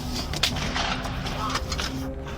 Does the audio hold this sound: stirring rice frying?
no